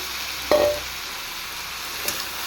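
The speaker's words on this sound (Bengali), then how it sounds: "তাহলে এবার তেলও গরম হয়ে গেছে এবার আমি সবজিগুলো ছেড়ে দেব এবার আমি সবজিগুলো দিয়ে দিচ্ছি" Chopped vegetables and ivy gourd hitting hot oil in a pan, a steady loud sizzle with a sharp burst as they go in and a second stir clatter, no talking.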